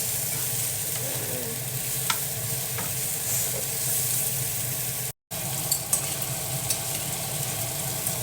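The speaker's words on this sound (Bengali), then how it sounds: "খাবারগুলো গরম করে নিচ্ছি।" Food being reheated in a pan at home, with a steady sizzle and occasional stirring scrapes that continue throughout, joined by a few small clinks and one brief break in the sound.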